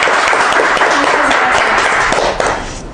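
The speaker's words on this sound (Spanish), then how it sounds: "Vamos a dar un fuerte aplauso, por favor." A crowd at a political event applauding loudly and steadily, a dense wash of clapping hands that holds for the full stretch and fades slightly near the end, with no voices over it.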